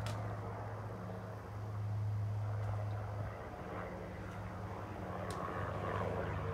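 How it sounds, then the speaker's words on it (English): A helicopter passes overhead, checking the highway for accidents above cherry trees in British Columbia. Its steady, low engine drone stays continuous and moderately loud throughout, with no talking. "Helicopter."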